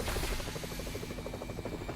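Helicopter in a video game, a loud steady rotor thrum with rapid rhythmic chopping that holds continuously throughout, close and alone with no talk.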